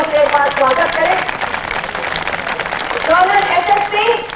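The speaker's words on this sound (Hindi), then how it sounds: "तो मैं चाहूंगी तमाम यात्रियों का आप लोग तालियों से एक बार स्वागत करें।" An audience applauding to welcome members of the Azad Hind Expedition at a homage event in Kanpur, a brief burst of clapping heard under someone speaking to the crowd.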